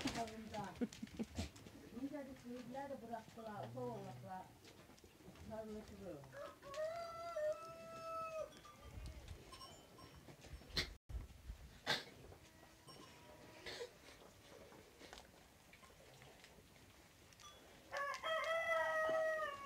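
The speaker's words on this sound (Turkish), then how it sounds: "Horozların öttüğü an seher vakti" Roosters crowing at dawn in a village, several times, some near and some farther off, with clucking hens and people talking in the background.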